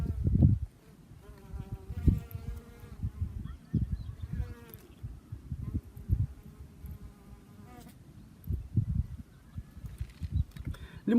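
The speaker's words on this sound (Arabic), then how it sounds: "وهذا النبات كذلك كيرتع فيه النحل." Bees buzz around flowering plants on a mountainside, the low drone rising and fading in repeated close passes with brief quiet gaps between them.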